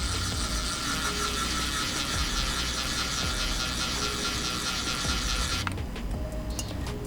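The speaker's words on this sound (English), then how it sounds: "And then go ahead and add the screw." Screw being driven into a hobby shock absorber with the shock shaft held compressed, giving a steady, close ratcheting, clicking mechanism sound through most of the clip that stops near the end.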